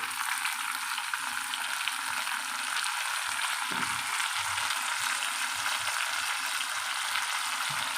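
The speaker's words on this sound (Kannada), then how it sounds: "ಇವಾಗ ಇದಕ್ಕೆ ಈರುಳ್ಳಿ ಫ್ರೈ ಆಗಿದೆ ಇದಕ್ಕೆ ಟೊಮೊಟೊ ಹಾಕ್ಕೊಳ್ಳೋಣ" Onion and tomato frying in a pan for tomato chutney, a constant close sizzle of oil with faint stirring clinks and scrapes underneath, no talking.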